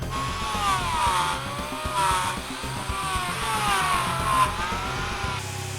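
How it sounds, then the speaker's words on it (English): Power tools carving a block of ice for a sculpture, a whining motor with wavering pitch that rises and falls as the blade bites in, grinding continuously. "we have power tools. Lots of power tools. And we're going to use them."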